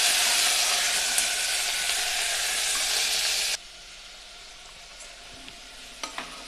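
Chicken pieces sauté in a pan with a loud, dense sizzle that suddenly drops to a much quieter hiss partway through, followed by a few light clicks and taps of a utensil, close and with no speech.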